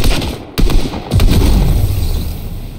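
Loud gunfire from the video game Fortnite, a few sharp shots followed by a dense, booming rumble of sustained firing and explosions that holds steady to the end.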